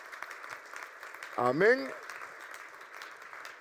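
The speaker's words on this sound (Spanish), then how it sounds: "Le da ese aplauso, amar la venida de Cristo." A church congregation gives steady applause during a Spanish-language ministry training service, the clapping continuing as a wash of sound throughout while one voice briefly calls out over it.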